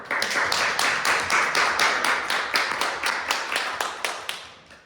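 A small room of people at a Toastmasters public speaking meeting claps together in a rhythmic, fairly close burst that tapers off with a few final scattered claps.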